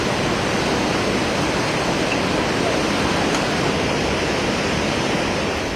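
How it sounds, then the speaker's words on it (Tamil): Water roars down Suruli waterfall in the Western Ghats hills of Theni district, swollen after heavy rain, a loud, steady, unbroken rush of noise close by that holds through the whole stretch. "தேனி மாவட்டத்தில் மேற்கு தொடர்ச்சி மலைப்பகுதிகளில் பெய்த கனமழையால் சுருளி அருவியில் தண்ணீர் ஆர்ப்பரித்து கொட்டுகிறது"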